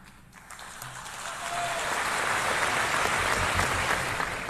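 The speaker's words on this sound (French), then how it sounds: "Applaudissements fournis dans une assemblée" Applause in the UN General Assembly hall, a sustained wash of clapping from a large audience that swells after the first seconds and holds steady, heard from a distance with no talk.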